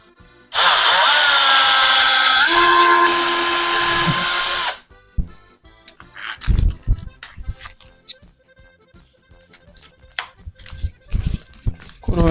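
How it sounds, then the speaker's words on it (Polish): A power drill whines loudly for about four seconds during bathroom door installation, its pitch dropping partway, then stops, followed by scattered clatter and handling noises. "Trzeba no wiercić teraz"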